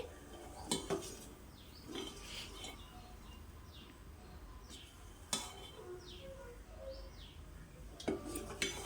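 A spoon stirs butter melting into ghee in a pot on a stove, giving faint scraping and occasional metallic clinks against the pot, with soft bird chirps in the background.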